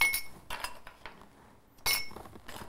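Frozen coffee ice cubes clink sharply into a glass in a few separate bursts, with bright glassy knocks and brief ringing, close and fairly quiet with no talking.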